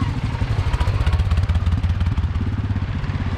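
A trail motorcycle rides off-road on a natural dirt course with climbs, its engine throbbing loudly and steadily close by, pulsing in a fast rhythmic chug throughout.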